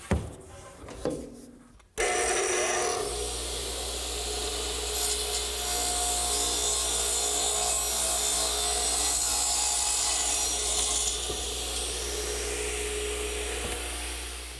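Power saw cutting the angled bottoms of wooden supports for a garden swing, starting with a short handling noise and then a loud, steady cutting whine and rasp that runs for over ten seconds before tapering off.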